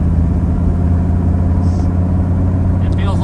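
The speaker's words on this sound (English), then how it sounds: "Haven't pushed any boost yet, just going through the gears." Turbocharged 6.0-swapped OBS truck driving through the gears, a loud, steady engine drone and road rumble from inside the cab, with someone talking over it.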